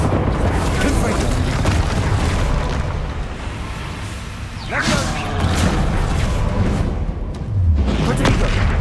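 A Confringo spell goes off in Hogwarts Legacy during a final boss battle, a burst of booming, crackling impact sounds layered over busy game effects and music, with a voice calling out spells.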